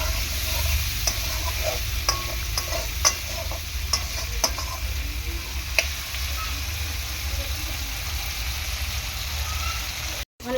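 Potatoes and vegetables stir-fried in a pan for a lunch of bele fish with mustard paste, brinjal and potato: a steady close sizzle with scattered sharp spatula scrapes and clacks, continuous throughout and cutting off abruptly at the end.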